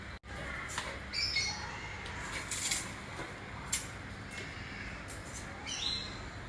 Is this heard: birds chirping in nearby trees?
yes